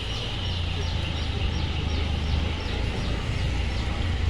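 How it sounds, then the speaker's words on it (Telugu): Birds call repeatedly in a misty mountain tea estate, bright chirps recurring at a steady rhythm over a constant low rumble and ambient hiss. "Bird sounds."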